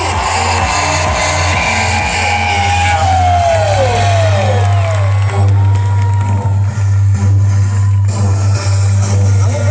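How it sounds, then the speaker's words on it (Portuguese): A large outdoor crowd at a political rally on Copacabana beach in Rio de Janeiro cheers and whoops loudly for the first lady, with shouts and whistles over a steady low hum of amplified sound. "Uma salva de palmas da melhor primeira dama do Brasil!"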